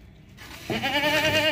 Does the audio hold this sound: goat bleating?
yes